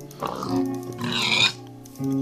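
Pigs in a block-building video game give short oinking grunts at moderate volume, a few separate calls over a steady game background.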